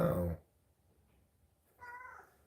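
A cat gives two close meows separated by a short quiet pause, the first fuller and louder, the second thinner and slightly softer.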